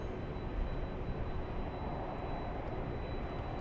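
Steady broadband roar of an airliner in flight on the short hop from LAX to San Jose, California, a continuous cabin-level drone with no breaks and no talk.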